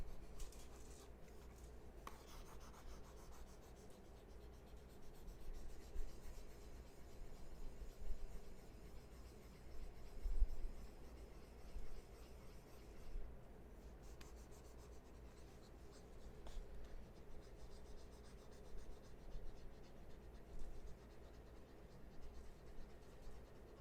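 Soft, steady scratching of a marker being rubbed across paper in close, continuous strokes, with faint background hum.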